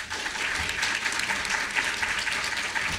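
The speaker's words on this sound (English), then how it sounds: "the entire panel a round of applause" Steady, dense applause from a conference audience thanking a panel at a Brooklyn nonprofit law summit, filling the room evenly and continuously without a break.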